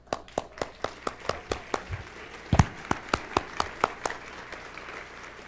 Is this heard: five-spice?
no